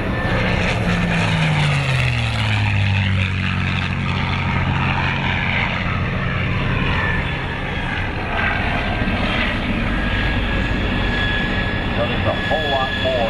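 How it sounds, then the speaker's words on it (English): A P-51 Mustang powered by a Rolls-Royce Merlin V12 inline engine flies past, its deep propeller drone loud and sustained, rising in pitch as it approaches and then fading away. "listen to the sound of this great 12-cylinder inline engine."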